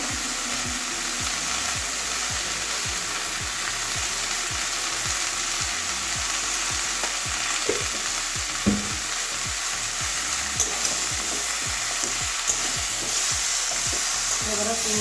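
Hilsa fish head, potatoes and greens sauté in a pan with a constant crackling sizzle and regular stirring strokes that tap against the pan for the whole stretch.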